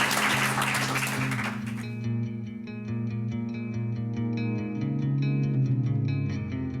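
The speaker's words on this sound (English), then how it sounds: "So a round of applause, please" An indoor awards-ceremony audience applauds the Hannon family's award: a couple of seconds of full, dense clapping that fades as reverberant music takes over.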